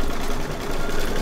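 An embroidery machine stitches fabric in a steady, fast mechanical whir with a fine rapid ticking rhythm, close and continuous for a brief moment without talk.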